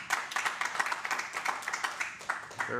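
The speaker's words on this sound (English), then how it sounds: "They're applauding for you, Ann, to come up." Audience clapping at a regular city council meeting, a steady patter of many hands that swells and dips over a few seconds, moderately close, with no voices over it.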